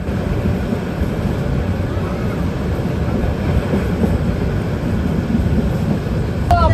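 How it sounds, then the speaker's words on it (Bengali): Sagorika Express train running from Chandpur to Chittagong as it enters Feni station: a steady, loud low rumble of wheels and carriages throughout, with a brief high squeal near the end. "এই মুহূর্তে আমাদের ট্রেন প্রবেশ করছে ফেনী স্টেশনে"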